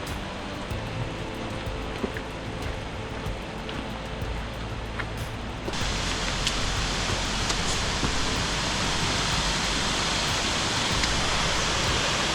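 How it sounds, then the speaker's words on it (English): Steady broadband rushing of a river swollen after rain, continuous and fairly loud, growing fuller and stronger partway through with no voices. "the river filling up again after a bit of rain."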